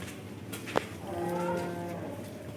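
A single long, low moo from a cow in calf, close and fairly loud, rising and holding before trailing off; a brief click just before it.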